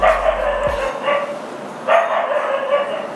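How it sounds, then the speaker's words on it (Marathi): A dog barking sound effect, with a few loud, close barks and yips in quick succession, standing alone with no talk over it. "हिचं नाव घेतलं तरी कुत्रे भुकायला लागले"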